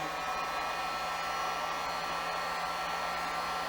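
A heat gun blows steadily onto shrink tube on a rope end, a continuous broadband fan-and-air rush that holds level throughout with no talking.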